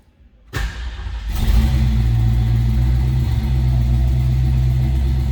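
A 1967 Ford Mustang coupe engine cranks and catches after a brief silence, then settles into a loud, steady idle with a deep rumble close by.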